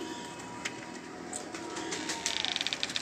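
Pigeons cooing softly in a loft against a steady background hiss, with a few sharper flutters and calls near the end.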